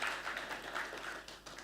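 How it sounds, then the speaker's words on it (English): Applause from an audience at a conference launch event greeting the Indian ambassador, a fairly faint, steady patter of many hands clapping throughout. "Give applause for him."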